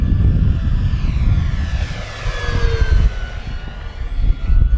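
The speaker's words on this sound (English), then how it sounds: "Now I'm going to go into some steep turns here into the middle. This plane just performs so nice" FMS P-51D Mustang V8 Red Tail RC warbird, 145 cm, flying steep turns overhead, its electric motor and propeller giving a loud rising and falling whine as it passes, with wind noise and no talk.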